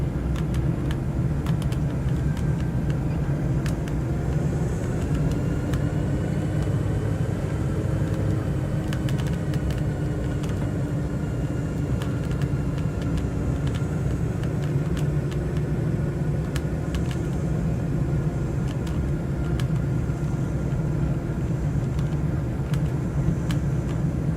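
A small plane rolling along a runway after touchdown in a VR flight simulator game over Akron, Ohio, a steady, loud low rumble of engine and wheels that holds continuously with faint clicks and ticks above.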